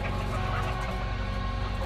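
Egg-laying hens confined in tiny wire cages on a factory farm, heard as a dense, steady din of clucking and cage noise that fills the space continuously, with no voices over it.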